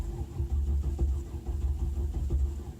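A Cadillac Northstar V8 cranks without catching, a quiet, rapid, even chugging of the starter turning the engine over for a few seconds.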